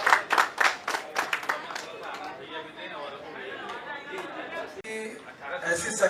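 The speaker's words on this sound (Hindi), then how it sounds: "गुजारिश करूंगा डॉक्टर साहब के लिए एक जोरदार तालियां" Applause breaks out for a doctor at a civilian awards ceremony in India, starting with bursts of clapping, then fading under crowd chatter and a voice over a PA system.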